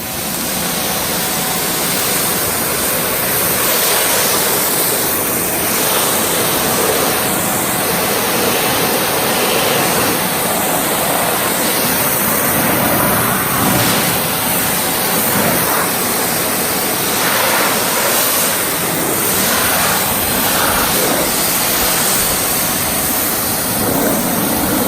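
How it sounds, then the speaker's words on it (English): A 2000 PSI electric Ryobi power washer spraying, a loud, steady hissing roar of water that continues unbroken throughout. "I'm using a 2000 PSI electric Ryobi power washer"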